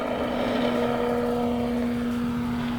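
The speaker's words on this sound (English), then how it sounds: "There's no wind right now, so it's got a nice smooth taxi going." An FMS T-28 Trojan RC warbird, 1400 mm with retracts, taxiing in calm air: a steady electric motor and propeller whine with a constant tone, close and unbroken throughout.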